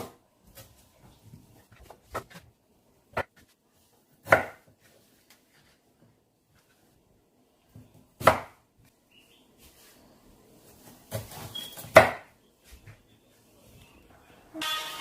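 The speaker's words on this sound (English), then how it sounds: "Now we're going to cut the ginger." A knife chops fresh ginger on a board while cooking jollof rice, giving sparse, sharp individual chops spaced a few seconds apart, with a quicker cluster of cuts near the end and quiet pauses between.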